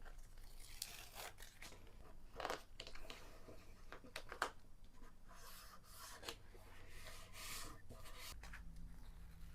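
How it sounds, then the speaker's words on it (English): Double-sided adhesive being applied to the front of a handmade card, quiet peeling, tearing and rubbing sounds in short bursts close to the microphone. "apply the double-sided adhesive to the very front of the card"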